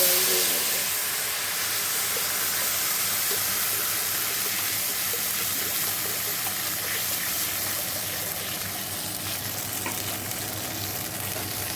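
Fish fry in hot oil with garlic tempering, giving a steady, dense sizzle and crackle that continues unbroken at close range.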